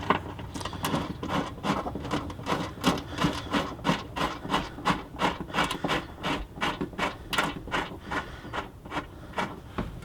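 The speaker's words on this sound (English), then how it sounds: "So we're gonna thread them in all the way to the point where they're sticking out 1/4 to 3/8 of an inch." 8mm bolts threaded by hand into the factory holes of a Toyota Tacoma, a steady rhythmic rasping ratchet-like scrape repeating about twice a second, close and continuous throughout with no talk.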